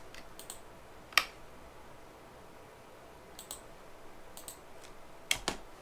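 Computer mouse clicks while playing the strategy game Supreme Ruler Ultimate, a handful of sharp, close, quiet clicks scattered irregularly over a faint hiss, some in quick pairs, with no talking.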